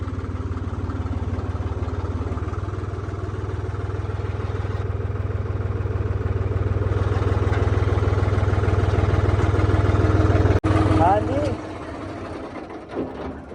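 A tractor engine, working in a paddy-straw field with a plough, runs with a steady low throb under talking, then cuts off abruptly near the end.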